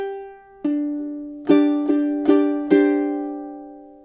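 Ukulele strummed in time through a measure of a song: one soft chord, then four crisp strums at a steady beat, each ringing out, close and clear with no voices.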